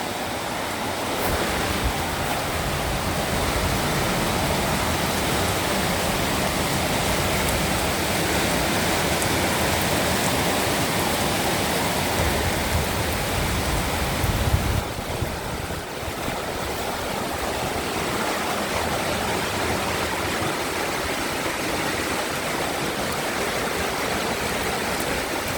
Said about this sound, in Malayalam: മഴ അടിപൊളിയായി പെയ്യുന്നുണ്ട്